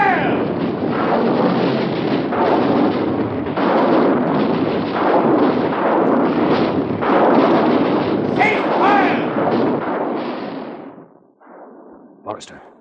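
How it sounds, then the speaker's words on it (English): Artillery and rocket batteries firing as a radio-drama effect in a War of the Worlds atomic-age invasion: a loud, sustained roar of rumbling blasts goes on for about eleven seconds and then dies away, with voices mixed in. "Artillery batteries, fire!"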